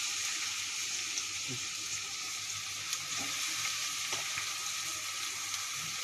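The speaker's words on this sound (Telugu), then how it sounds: "ఆయిల్ వేసుకొని ఆనియన్ పచ్చిమిర్చి కరివేపాకు వేసేయాలి" Onion, green chilli and curry leaves fry in hot oil for a drumstick tomato curry, giving a constant dense sizzle with a few faint taps and stirs underneath, close up and without talk.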